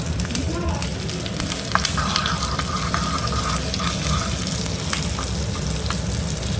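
In hot oil where mustard seeds have already popped, onion, dried red chili and curry leaves fry for a lentil kuzhambu tempering, making a dense, close, crackling sizzle with sharp spits and stirring noises throughout.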